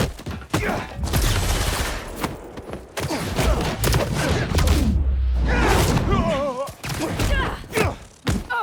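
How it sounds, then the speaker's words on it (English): Turret gunfire in the Spider-Man 2 video game: rapid, loud bursts of shots and heavy thuds in chaotic combat, mixed with shouting voices and sharp impacts. "There's a turret now!"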